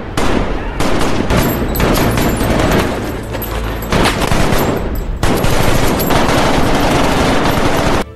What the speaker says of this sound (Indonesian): Tak lama kemudian baku tembak pun terjadi.